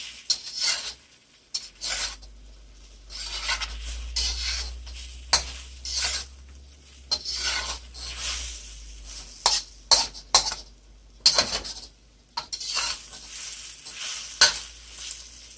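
Soft scrambled eggs stirred around in a pan over the heat, with a steady low sizzle under repeated scraping strokes of the utensil and occasional sharper clinks against the pan, close and moderately loud.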